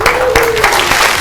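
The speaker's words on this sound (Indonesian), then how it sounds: "Tepuk tangan dulu dong." A room full of people clapping steadily at a graduation event, loud and close, the applause filling the whole brief moment.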